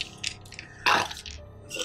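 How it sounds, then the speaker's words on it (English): A single short, wet burp sounds close in the middle of a quiet tabletop role-playing game session, set among faint clicks and rustles, with no talk. "Sorry. I burp when I'm nervous."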